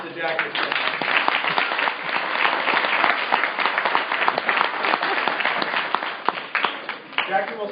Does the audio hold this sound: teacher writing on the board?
no